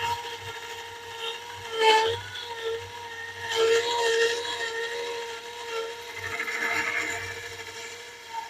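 A woodturning lathe hums steadily while a cutting tool bites into a spinning brick bowl, with a few louder scraping and chattering bursts over the motor's drone.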